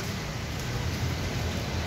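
Heavy rain falls in a steady, dense hiss that stays even and fairly loud throughout, with no voices over it.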